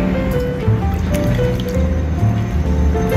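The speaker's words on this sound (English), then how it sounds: "Add enough water." Water pours steadily into a bowl of beaten eggs with a continuous trickling, bubbling sound, close and fairly loud throughout.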